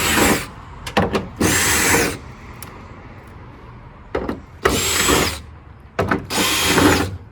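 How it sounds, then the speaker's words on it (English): A cordless power drill removes screws from a Ram truck tailgate in four separate bursts of loud, close whirring, each a second or so long, with short clicks and quiet handling noise between them. "we'll start by removing all these screws"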